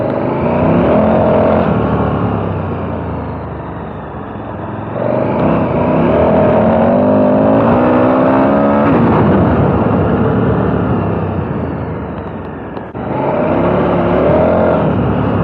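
A 2021 KTM 1290 Super Adventure S motorcycle pulls hard under throttle with a loud, continuous engine roar that rises and falls through the gears, with wind rush and no talking.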